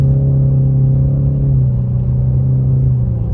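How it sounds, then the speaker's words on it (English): Ford Mustang EcoBoost S650 with an MBRP exhaust idling or cruising with a steady, deep engine drone and exhaust rumble, close and continuous throughout without pause. "Such a unique sounding engine and exhaust."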